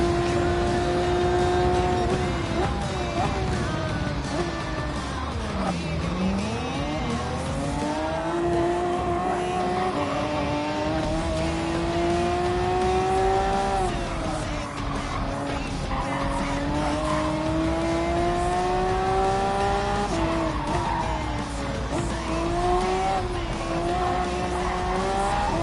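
Race car engines in Gran Turismo 7, with a roughly 600-horsepower car among them: a loud sustained engine whine that rises and falls through gear shifts and braking dips, plus tire squeal and steady track noise throughout.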